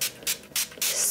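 Shea Moisture Hold and Shine Moisture Mist is sprayed onto a section of hair from a pump bottle. Four quick hissing bursts come at an even rhythm, each close and fairly loud, with short quiet gaps between them.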